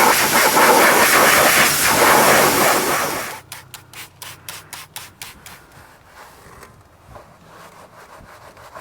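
Soapy water being scrubbed over a car exhaust with wheel brushes gives a loud, dense hiss for about three seconds, then a run of quick rhythmic brushing strokes that fade toward a soft finish.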